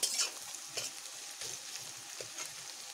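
Onions fry in a pan being browned, a quiet sizzle broken by a few soft scraping stirs spaced through the moment.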